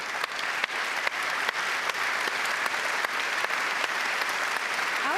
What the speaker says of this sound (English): I'm going to give them again a big applause, and I hope you will join me.